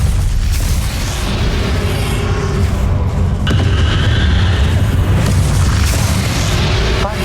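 A Bombarda explosion spell in Hogwarts Legacy, a loud continuous rumbling blast with deep booming low end and crackling debris layered through the whole stretch, dense and close.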